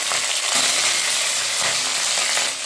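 Whole green chillies hit hot oil already crackling with mustard seeds, fenugreek, cumin and curry leaves, giving a loud, steady close sizzle with fine popping throughout.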